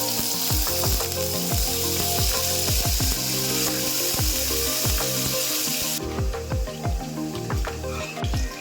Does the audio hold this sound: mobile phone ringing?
no